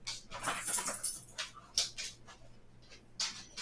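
Buford, a pet dog, whimpers and whines in several short high-pitched bursts, fairly close by and steady over a low background hum, with no talking.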